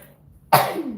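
A single sharp, explosive burst of breath erupts suddenly after a quiet moment, like a sneeze, with a brief trailing exhale.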